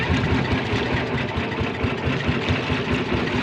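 A fishing boat's engine idles with a steady, mid-low rumble and a regular chugging pulse that runs continuously at close range, with no voices over it.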